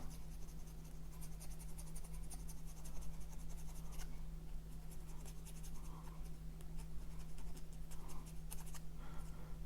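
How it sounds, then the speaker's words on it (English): Milliput epoxy putty filling on a resin Forge World miniature part being sanded down: a steady, continuous dry scratching rasp close up, with faint stroke pulses over a constant low hum. "So we need to sand this Milliput filling down"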